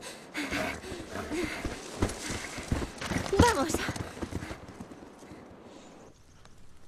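Horse hooves clip-clopping at a gallop in The Last of Us, a steady rhythmic beat under game music and sound effects while someone speaks over it, fading out near the end.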